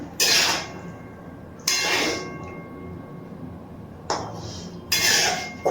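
Metal pot lid on a pot of boiling potatoes, producing four distinct clanging clinks spaced a couple of seconds apart, close and fairly loud over a quiet background.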